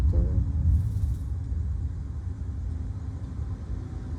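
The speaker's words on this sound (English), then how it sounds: "You see that little roll of thunder." A low, soft roll of distant thunder rumbles during a lightning storm, a faint drawn-out murmur that fades slowly.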